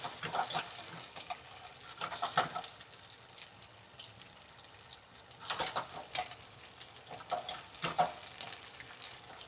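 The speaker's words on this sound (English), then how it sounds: "let them kind of blister away here. You keep it moving" Vegetables blistering in a hot pan while being tossed and stirred wok-style, a steady sizzle with scraping stir strokes rising and falling in intensity throughout.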